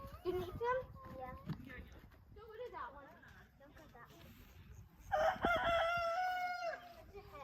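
Chickens cluck and a rooster crows at a farm house, the crow ringing out loud and close in the second half after scattered clucks mixed with people talking.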